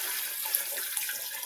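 Water pours steadily into an Instant Pot while chicken noodle soup with chicken and carrots is being made, a continuous close splashing stream with no talk.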